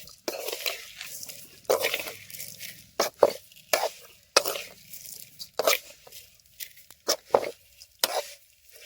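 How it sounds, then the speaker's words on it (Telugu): Vermicelli (semiya) frying in ghee in a pan for payasam, a soft sizzle broken by repeated stirring scrapes and clinks of a spoon against the pan, close and moderately loud with no talking. "సేమియాని మనం ఇప్పుడు ఫ్రై చేస్తున్నాం."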